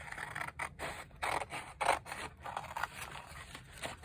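Scissors cut through paper material for a handmade journal, a series of close, faint snips and scrapes in an irregular rhythm with no talk.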